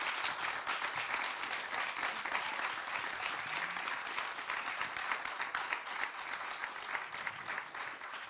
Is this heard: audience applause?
yes